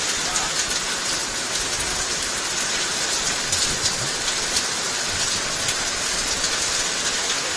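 Heavy rain pours down steadily across an outdoor lawn bowls venue during a state championship final, a loud, continuous dense hiss with no letup and no voices.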